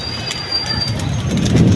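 Pigeons at an outdoor trapping spot with a large net, a low cooing murmur and soft rustle rising gradually under steady wind noise, no voices.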